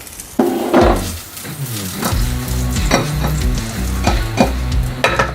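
Sukiyaki filling for an omelette sizzles loudly in a hot pan while a utensil scrapes and taps against it in an uneven stirring rhythm, close by.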